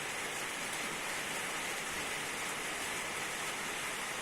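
Steady rain pours down near a farm barn, a dense, even hiss that holds without break from start to end, with no voices over it.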